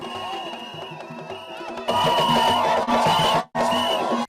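A crowd of ghetto youth cheers at Museveni's arrival at an evening gathering in Kawempe division. A loud roar of voices swells and holds, cuts out sharply for a moment, then returns, mixed with a tonal music-like layer.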